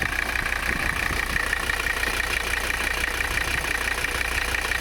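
A 1985 Mercedes 300CD engine idles steadily and fairly loudly, a continuous rumble with a persistent mid-range drone and no voices.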